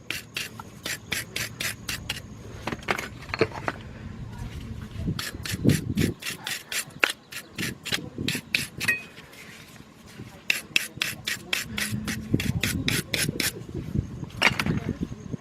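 Brake pads from a 2000 Jeep Grand Cherokee Laredo are cleaned, with repeated rhythmic scraping and rasping strokes in quick runs, broken by clunks and short pauses.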